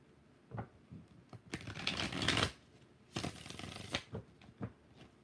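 A tarot card deck is shuffled in several quick riffling bursts, crisp papery flutters close by with short quiet gaps between them, no voices.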